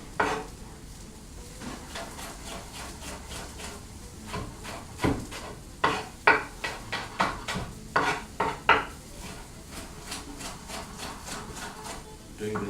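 Knife slicing bell peppers on a cutting board, a run of sharp, closely spaced chopping taps in the middle stretch over quiet kitchen background, close and moderately loud.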